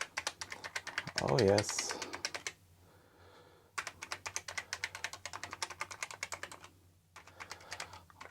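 Keys on a repaired Amiga 600 keyboard are tapped in quick, steady runs of close plastic clicks, pausing briefly twice, with a short spoken remark early on.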